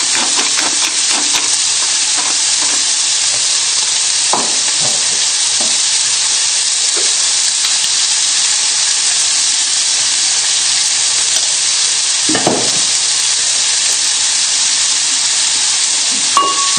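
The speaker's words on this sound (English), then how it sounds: "And just give everything a little stir" Tomatoes frying in a pan give off a loud, steady hiss and sizzle, with occasional soft scrapes and knocks of a spoon as they are stirred, close and without speech.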